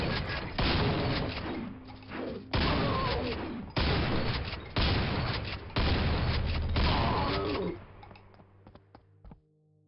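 A pistol in Quake Brutalist Jam 3 firing in loud sustained bursts of rapid shots, dense and continuous with brief gaps between volleys, then fading into a few scattered clicks and thuds.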